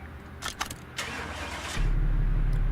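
A car engine in the video game Car Mechanic Simulator 2018 cranks with a few sharp starter bursts, then catches and settles into a steady, low idle rumble.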